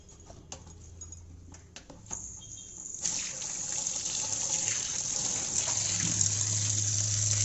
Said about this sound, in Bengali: ঢেলে গরম জল ঝরিয়ে নেব এবং সঙ্গে সঙ্গে আমি ঠান্ডা জলে খুব ভালোভাবে চাউমিনটা ধুয়ে নেব।